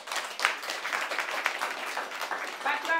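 A crowd claps continuously and densely at a Haitian Vodou Kanzo and baptism ceremony, the applause sustained and moderately loud throughout.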